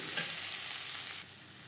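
Mashed boiled potato is stirred into masala frying in a pan: a brief, close sizzle with soft scraping strokes and no voices.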